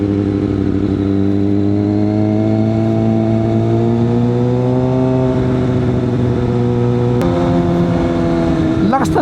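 A 2022 Kawasaki ZX6R motorcycle engine holds a loud, steady high rev, then the pitch shifts and climbs sharply near the end, heard close and continuous with no talk over it.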